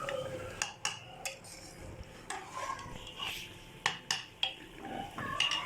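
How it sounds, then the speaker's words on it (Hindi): A spoon stirs tomato paste into chicken jalfrezi in a cooking pot, with sharp metallic clinks and scrapes against the pot at an irregular rhythm over a soft background hiss. "अब हम बहुत अच्छी तरह से इसकी मिक्सिंग करेंगे"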